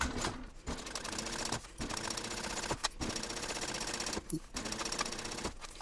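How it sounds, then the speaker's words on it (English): A sewing machine runs in steady rapid stitching bursts through backpack fabric, loud and close, pausing briefly a few times between runs. "So let me go ahead and sew."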